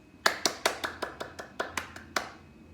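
About ten separate, crisp hand claps ring out at a slightly irregular pace, each with a short reverberant tail, as if from one or a few people in a quiet room.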